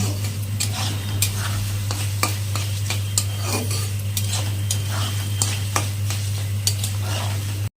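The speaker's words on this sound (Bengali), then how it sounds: "আর একটু আর অল্প ভাজা হবে, একটু লালচে হবে" Rice for a radish dish fries in a pan while a utensil stirs and scrapes it steadily, with crackling sizzle over a constant low hum and no talking.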